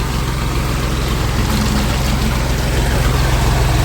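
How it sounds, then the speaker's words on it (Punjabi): A tractor engine idles and runs steadily at night during paddy field work, a continuous low diesel rumble that stays close and even throughout with no other sounds over it. "ਬਾਕੀ ਟਰੈਕਟਰ ਚੱਲ ਰਿਹਾ ਰਾਤ ਦਾ"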